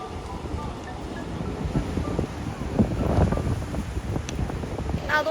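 Wind buffets the microphone on Bondi Beach in Sydney while ocean waves roll and wash steadily behind it, a continuous rushing roar with gusty swells and no talk.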